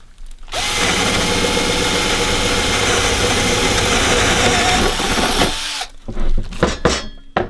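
A power drill whines loudly and steadily for about five seconds while boring holes in wood, then cuts off, followed by a few short clattering knocks.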